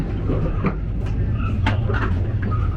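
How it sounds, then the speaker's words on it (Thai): Steady low rumble of a sleeper train rolling along the tracks, with scattered rattles and squeaks from the carriage. "แต่การวิ่งของรถไฟอ่ะเหมือนเป็นดินไหว"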